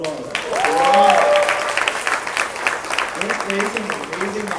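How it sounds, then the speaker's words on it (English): Graduation-ceremony audience applauding the class of 2015: steady, many-handed clapping from a crowd, with a voice speaking briefly near the start. "I think they deserve another round of applause."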